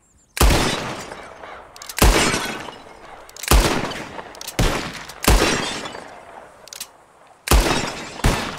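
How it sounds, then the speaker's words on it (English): Gunshots shatter bottles in the video game Red Dead Redemption II: six loud, sharp cracks spread unevenly across the stretch, each followed by a ringing, decaying tail of breaking glass. "Whoever shoots more of these bottles wins."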